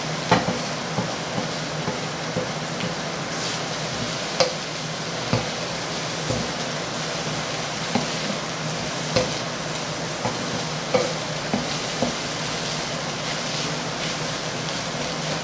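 Shrimp and its juices frying in a pan and being stirred before rice is added, a steady sizzle with regular soft scraping knocks of the utensil against the pan, close and continuous.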